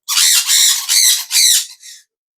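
Indian ringneck parrot chicks about twenty to twenty-five days old at a bird market in Tongi give four loud, harsh squawks in quick succession, close up, then a fainter fifth.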